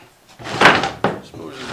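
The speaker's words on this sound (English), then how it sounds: "The door does open, it's just sort of a" A door inside a skoolie bus conversion is worked open against a tight fit, giving a couple of close, scraping knocks and rubs of wood, with a voice talking over it.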